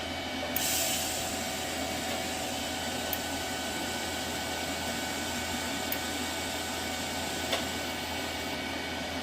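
AC/DC TIG welding on cast iron sets up a loud, steady electric buzz and hiss that runs unbroken through the whole stretch, with a few faint sharp ticks and no voices.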